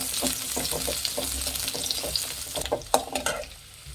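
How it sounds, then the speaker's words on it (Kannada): Thickly cut onions frying in oil for hotel-style butter chicken: a continuous close sizzle with crackling pops and stirring taps that thins out toward the end, with no talking. "ಈರುಳ್ಳಿ ಫ್ರೈ ಮಾಡಬೇಕಾಗುತ್ತೆ"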